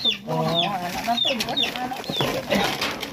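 Chickens cluck in a rural yard, a run of close, chattering clucks and squawks repeating over a few seconds with some background voices.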